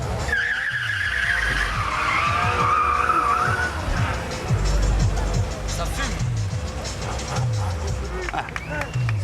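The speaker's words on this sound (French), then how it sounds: "C'est cramer du pneu pour pas grand-chose, c'est bien." Car tires squeal and skid at a street rodeo, with long screeching slides, burning rubber and revving engines over a noisy crowd murmur, loud and continuous throughout.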